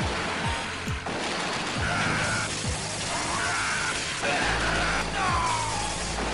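Heavy machine gun fire in the arcade run-and-gun game Metal Slug 6, steady rapid shots mixed with in-game effects and music, continuous and moderately loud throughout with no voices.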